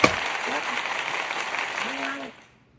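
Button-triggered applause sound effect: a steady wash of clapping and crowd noise lasting about two seconds before cutting off abruptly, with a voice faintly underneath.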